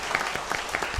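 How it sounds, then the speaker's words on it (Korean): A church congregation at a Salvation Army Sunday service claps briefly, a short, moderately faint burst of applause with no talk over it. "한번 박수 한번 해주세요"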